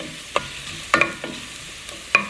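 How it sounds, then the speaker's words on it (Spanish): Garlic and softened onion frying in a pan, a quiet background sizzle broken by a few sharp spoon scrapes and clicks as the pieces are stirred. "le voy a agregar lo que es un ajo. Y dejaremos que se dore un poco."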